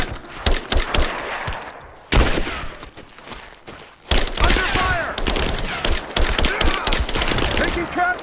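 Gunfire in the Rise of the Tomb Raider game: dense, rapid volleys of sharp shots with a short pause in the middle, loud and close, over a busy combat backdrop.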